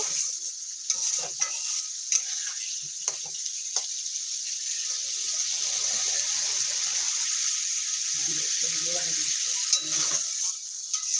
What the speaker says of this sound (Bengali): এখন একটু জল দিয়ে দিয়েছি এখানে আর একটু একে নাড়াচাড়া করে নেব